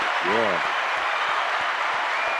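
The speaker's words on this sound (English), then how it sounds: "Let's give him a round of applause" A crowd applauds at a broadcast talk show, a steady wash of clapping that fills the clip, with a brief voice near the start.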